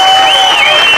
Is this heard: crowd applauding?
yes